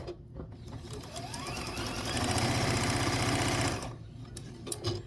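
A sewing machine stitches quilt seams at a steady, fast, even whir, quiet at the start, then running loud and continuous for about three seconds before stopping, followed by small handling clicks.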